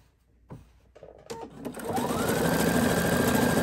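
A sewing machine stitches an applique onto a T-shirt dress, starting with a few clicks and short bursts before settling into a loud, steady whir of rapid needle strokes that runs to the end.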